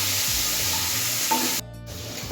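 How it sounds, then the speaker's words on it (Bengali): Shrimp frying in hot mustard oil in a wok, a loud, close, continuous sizzle with a brief drop in intensity near the end, no voices. "এবার চিংড়ি মাছটাকে ভেজে নেবো"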